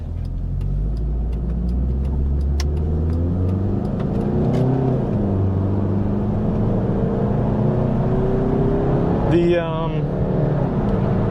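A small four-cylinder Mitsubishi Eclipse engine with an aftermarket muffler hums and rises in pitch as it drives, with a throaty exhaust note and a brief higher whine near the end.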